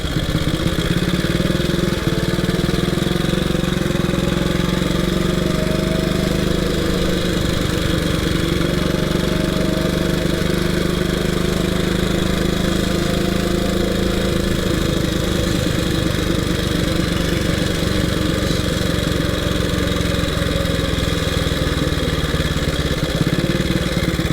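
A 1926 HRD Model 80 motorcycle engine runs steadily and loud throughout, a continuous throbbing rumble with slight shifts in pitch as it revs, no voices.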